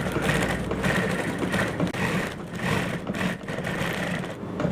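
A sewing machine runs steadily, stitching an extra line over fabric strips on a pair of trousers; a continuous close mechanical whir with a brief dip partway through.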